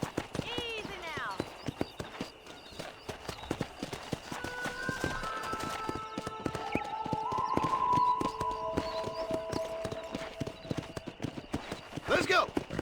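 Horse hooves clip-clopping at a steady trot in the Red Dead Redemption video game, the rhythmic clopping running throughout beneath game music and occasional voices and a shout.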